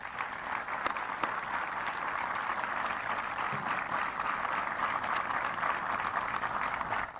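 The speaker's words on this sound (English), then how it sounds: "How about an applause for them?" An outdoor crowd at an Army base renaming ceremony at Fort Benning, Georgia, applauds for family members, giving a steady, moderately faint patter of many hands clapping that continues evenly throughout.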